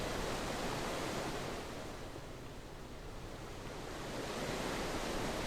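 Steady broadband rush of flowing water from The Forgotten City video game, a continuous even wash that dips slightly midway and swells again, with no voices.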